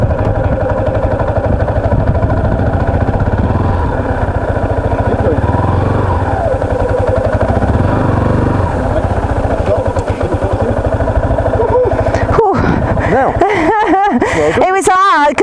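A learner's motorbike engine runs steadily throughout as the rider is coached to ease out the clutch and add throttle, with people talking over the engine and sharper, uneven bursts near the end.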